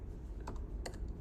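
Quick keystrokes on a computer keyboard while entering origin server IP addresses into an anti-DDoS configuration form, two short bursts of clicks close up over a steady low background hum.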